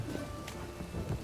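Steady rain falling in the video game The Witcher 3, a dense continuous hiss with faint rumbling underneath, constant throughout with no talking.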